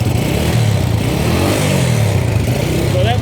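Old Honda XL125 motorcycle engine, pulled from long barn storage, idling steadily on full choke with a continuous loud low rumble and slight uneven lope throughout.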